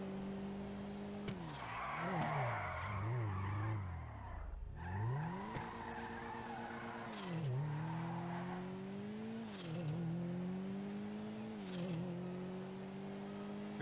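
An inexpensive drift car in GTA Online revs and slides, its engine note rising and dipping through repeated throttle swells while tires squeal and skid in long continuous stretches, moderately loud.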